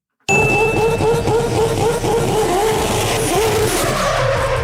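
A 4-rotor RX-7 race car skids and slides, its rotary engine wailing in a loud, continuous, warbling roar with squealing tires, starting abruptly after a brief silence.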